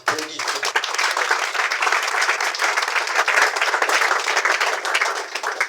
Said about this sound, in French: Et c'est applaudi.